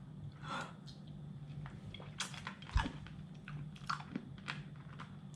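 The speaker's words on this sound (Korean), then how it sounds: "씹어먹고 있어?" Close chewing of Finnish salmiakki salty licorice candy, soft crunches and squishy bites in an uneven rhythm with breathing, no talking heard.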